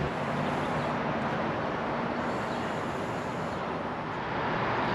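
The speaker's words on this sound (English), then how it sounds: "So I apologize for the road noise in the background" Steady broadband rumble of road traffic on the Pennsylvania Turnpike heard from a nearby campground, a continuous dull wash of passing vehicles with no distinct events or voices.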